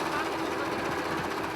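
A compressor over 50 years old, feeding air through a hose to a diver, runs with a steady, dense mechanical drone and a fast rattling pulse that holds at even loudness throughout.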